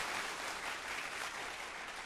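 Studio applause plays on a talk radio show, a steady, dense wash of clapping that holds evenly for about two seconds with no voices over it.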